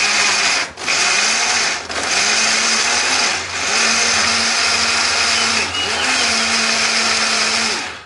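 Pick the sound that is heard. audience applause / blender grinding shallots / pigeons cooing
blender grinding shallots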